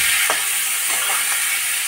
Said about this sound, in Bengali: চালটাকে একটু ওই ঘিয়ের মধ্যে ভালো করে ভেজে নেব।